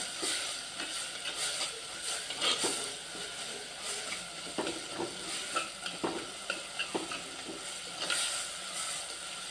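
Eggplant sautéing in a pan with turmeric for a thokku, a soft steady sizzle with scattered scraping stir clicks, fairly quiet and continuous throughout.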